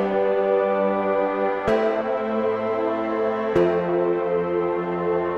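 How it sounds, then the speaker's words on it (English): A basic synth pad holds major and minor chords in turn, changing chord twice with sharp attacks, sustained and loud with no gaps. "So this is a major, major, minor, major chords here."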